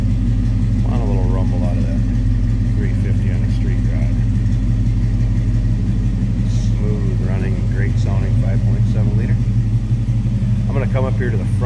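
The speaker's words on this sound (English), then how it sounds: "Nice little rumble. Nothing too crazy, but want a little rumble out of" Behind a 1950 Chevrolet 3100 pickup street rod, the exhaust gives a steady, low rumbling idle throughout, while someone talks intermittently over it.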